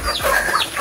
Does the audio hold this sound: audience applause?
no